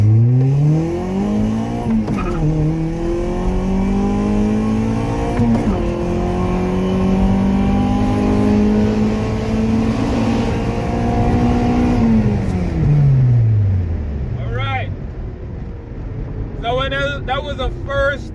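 A Honda Accord with an H22 engine swap pulls hard through the gears, its engine rising in pitch with each gear and dropping briefly at every shift, loud and close from inside the car, with a voice briefly audible.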